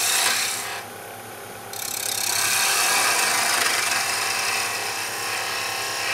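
A sharp skew chisel cuts wood spinning on a lathe, a continuous close rasping scrape that briefly lightens and then presses in harder and louder for several seconds.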